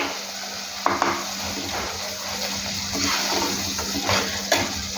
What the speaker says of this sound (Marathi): तर हा तेलात परतून आपल्याला घ्यायचा आहे.